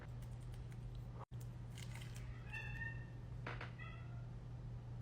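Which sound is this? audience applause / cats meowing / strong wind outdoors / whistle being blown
cats meowing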